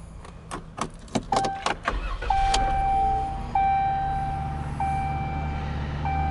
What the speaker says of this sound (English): I'm gonna go and hop in and start it up.